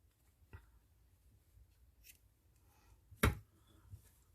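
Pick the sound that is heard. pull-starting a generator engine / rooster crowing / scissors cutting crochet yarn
scissors cutting crochet yarn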